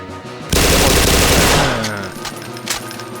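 Sustained automatic gunfire in the Wolfenstein video game, a loud dense burst lasting about a second and a half that then tails off into echoing reverberation, with a few fainter shots afterward.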